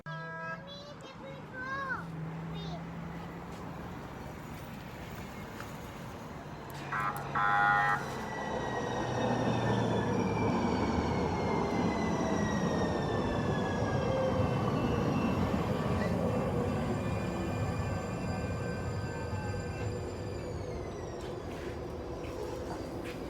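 A San Diego trolley rolls along with rumbling wheels, a high tonal squeal that shifts in pitch and a brief signal tone, heard from on board or nearby. A voice and other people's speech sound over it at times.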